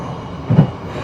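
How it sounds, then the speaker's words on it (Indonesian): Tegal Bahari passenger train departing from the station at Cirebon, heard as a steady low rumble with a brief rise of heavier wheel and engine noise, and no talking. "Baru saja kereta Tegal Bahari setelah tunggu waktu yang cukup lama di Cirebon Perjakan akhirnya diberangkatkan tepat sesuai jadwal."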